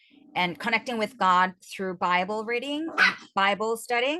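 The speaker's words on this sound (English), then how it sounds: "Sorry about my dogs" Pet dogs bark and yip in short bursts close by, partly under someone speaking steadily.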